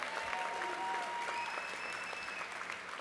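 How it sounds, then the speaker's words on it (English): A California Democrats convention crowd applauds for an honoured team leader, heard as a fairly distant, sustained roar of clapping with a few thin whistles rising above it. "who deserves a big round of applause as well"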